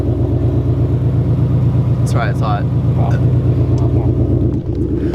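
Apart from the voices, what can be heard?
car engine with loud exhaust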